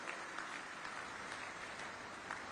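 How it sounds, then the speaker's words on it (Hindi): An audience applauds at a public event to greet new welfare projects, a dense, steady wash of clapping from a large crowd, heard from a distance and continuous throughout. "एक बार आप सभी लोगों की तालियों की गड़गड़ाहट के साथ इन परियोजनाओं का अभिवादन हम करें"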